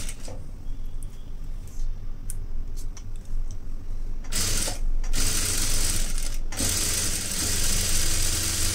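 A new sewing machine running stitches along a plain blouse edge: a steady mechanical whir with rattling, swelling into louder, denser runs midway before settling back.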